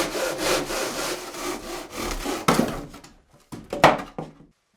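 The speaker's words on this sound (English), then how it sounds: "The beams can also be cut with a conventional handsaw." A conventional handsaw cuts through a faux-wood beam with rapid back-and-forth rasping strokes, close and fairly loud, ending in a few slower, separate strokes and a soft knock before it goes quiet.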